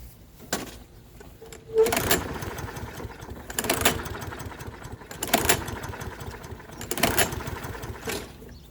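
A Toro 6.75HP 149cc lawnmower engine is pulled repeatedly but fails to catch: about four bursts of cranking noise spaced roughly 1.5 seconds apart, with quieter mechanical rattles in between.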